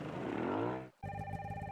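Telephone ringing in the Nancy Drew: Sea of Darkness video game, a short steady electronic ring tone entering after a brief gap, heard alone.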